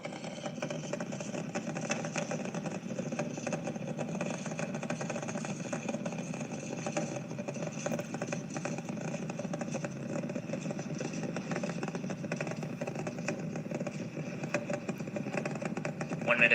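Artemis 2 rocket main engines during launch, a steady, broad, continuous roar and rumble holding at an even loudness throughout, with faint speech mixed underneath.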